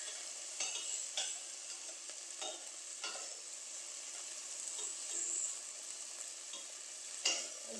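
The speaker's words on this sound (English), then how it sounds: "And just allow this to saute in the oil." Ground beef sautés in oil over medium heat on a stove, giving a steady soft sizzle with a few sharper stirring scrapes and clicks, close and alone with no voices.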